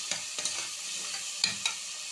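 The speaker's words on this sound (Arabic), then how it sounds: "هنقلب تقليبه كمان" Food stirred in a pan with a teaspoon of salt while cooking Egyptian rice: a soft continuous hiss with a few light scraping strokes of the spoon, close and fairly quiet, no talking.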